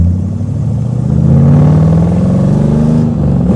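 Corvette C2 convertible with a four-speed manual pulling away from a standstill in second gear, its loud, close engine note rising steadily in pitch under load, then dipping briefly near the end.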